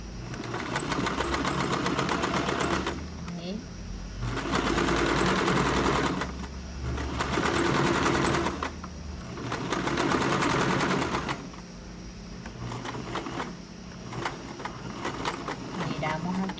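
A sewing machine runs close by while stitching a shirt collar, buzzing in several sustained runs of one to two seconds separated by slower, quieter stretches as the fabric is turned, with speech present.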